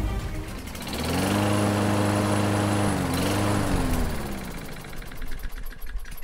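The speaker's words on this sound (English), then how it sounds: "Having a hard time getting that mower started?" A lawn mower engine sputters and struggles, a rough droning motor rising and wavering for a few seconds before fading into uneven chugging, close and fairly loud with no talk.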